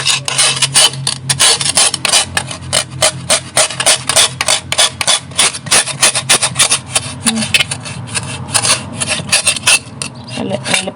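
A knife scrapes repeatedly across the rough skin of a giant stingray, the loud rasping strokes coming in rapid, close bursts with short gaps between them.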